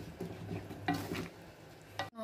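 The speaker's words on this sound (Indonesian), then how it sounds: "Selanjutnya kita aduk sampai mendidih agar santannya tidak pecah." A spoon stirs opor ayam, chicken curry in coconut milk, in a pot, making soft scraping and a few light clinks against the metal, quiet and close.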